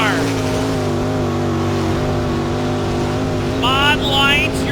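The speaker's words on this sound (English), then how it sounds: "Here comes Tyler Thompson in the 48 sprint car." A sprint car roars around a dirt track at the Hawkeye Challenge, its loud engine droning steadily with shifting pitch, while a voice talks over it and another car screams past near the end.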